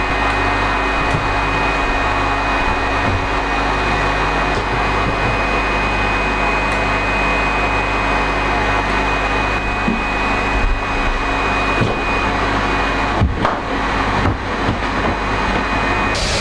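A household vacuum cleaner drones steadily and loudly throughout, a constant motor whine with a sustained high tone, used to clean a house after a flea infestation; brief bumps and knocks near the end.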